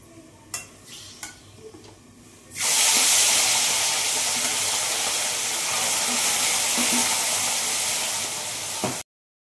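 Eggplant slices drop into hot oil already used for frying fish, setting off a loud, steady sizzle and hiss that runs evenly for several seconds and then cuts off abruptly, preceded by a few faint clinks.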